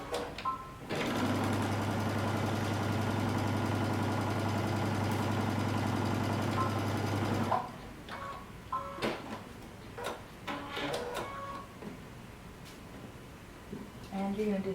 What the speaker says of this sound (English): we're going to sew using 5/8 of an inch seam allowance